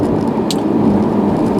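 A 2019 MINI Cooper S Countryman ALL4 is being driven, its engine giving a steady, loud, continuous drone from inside the car throughout.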